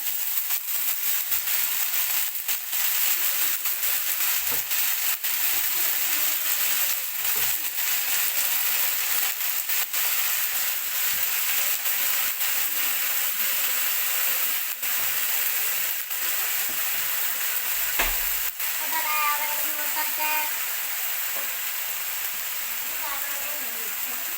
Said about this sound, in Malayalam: നമ്മള് കടുക് പൊട്ടിക്കാനിട്ട് കടുക് പൊട്ടി